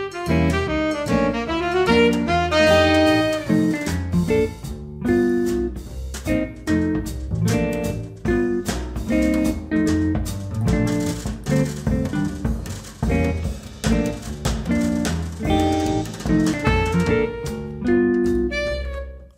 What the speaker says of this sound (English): just the rhythm accompaniment and the drum set. It sounds like this.